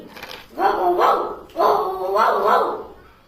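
A voice imitates a dog barking, two drawn-out woofing calls in quick succession, close and loud.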